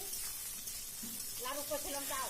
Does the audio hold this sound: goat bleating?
no